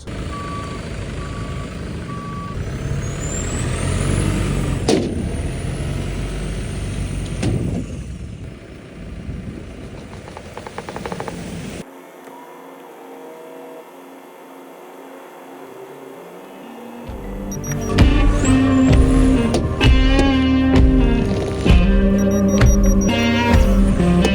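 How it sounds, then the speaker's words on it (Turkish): A car hauler truck loading cars on a snowy day: repeated high reversing beeps and a heavy diesel engine drone, then a quieter humming stretch before the engine noise swells up loud again, with no talking. "Biraz daha ileri alacağım şu iki arabayı."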